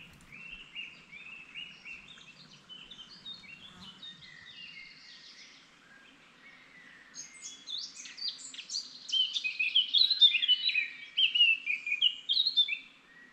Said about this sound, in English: we are enchanted again by a wonderful bird concert